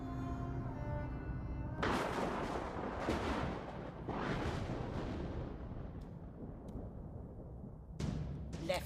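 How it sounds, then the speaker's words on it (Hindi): Gunfire in an action movie, heard as several heavy booming shots spaced a second or so apart over a rumbling background, with a final crack near the end. "मार दी सारी गोलियां उसकी छाती में।"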